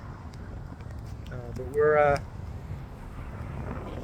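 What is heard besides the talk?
wind blowing at Chao Samran Beach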